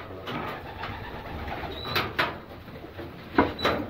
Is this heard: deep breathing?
no